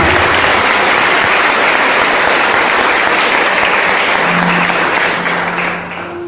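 A congregation at a religious retreat applauds God, many hands clapping in a loud, sustained roar for about six seconds before it begins to fade, with a faint tone underneath.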